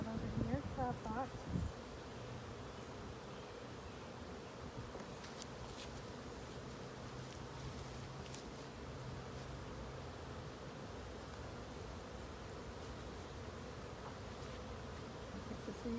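Honeybees hum around an open hive, a faint continuous buzz with brief rustling knocks at the start and a few light taps later, distant and low throughout.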